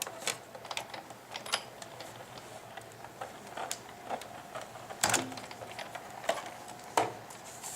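A Sizzix Big Shot die-cutting machine cranked through a two-die tree set and brown material: faint ticking and clicking with occasional louder clacks, irregular and close, with no talk.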